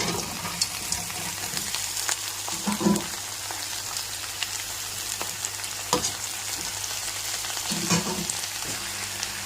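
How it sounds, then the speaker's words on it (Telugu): Bitter gourd pieces fry in oil with onion, curry leaves and salt, a steady soft sizzle with occasional stirring scrapes and clinks, close and alone without talk. "బాగా వేగుతున్నాయి"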